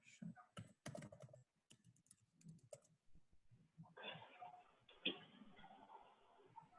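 Typing on a computer keyboard in irregular bursts of sharp clicks and taps at close range, mixed with a voice speaking partway through.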